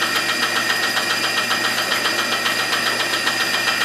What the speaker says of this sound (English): very clearly cutting the 1/8 steel without too much of a grunt